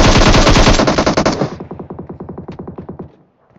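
Automatic gunfire in PUBG Mobile, a long loud burst of rapid shots that drops into a slower, quieter string of evenly spaced cracks before fading out.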